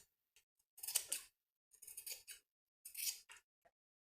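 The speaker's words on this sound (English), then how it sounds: "Snip into the curves of the neckline. Also trim the seam allowance at the back corners." Scissors snip through fabric at the curved neckline of a peplum top, three separate bursts of crisp cutting, close and clear against a quiet background.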